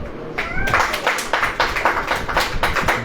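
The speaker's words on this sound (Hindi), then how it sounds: "ताली बजाएं।" A church congregation claps hands together in steady, rapid rhythm, loud and fairly close, with a brief voice near the start.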